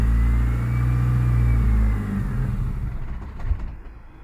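A Ford Escort Si, a barn-find mk6 with a faulty idle valve and the MAF sensor disconnected, runs loud and close with a strong revving drone that holds, then drops away and fades out.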